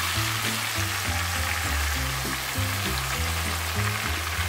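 Chicken simmering in a covered pot for biryani gives a steady, close sizzle and bubbling hiss that runs unbroken throughout, with a low melodic tone underneath.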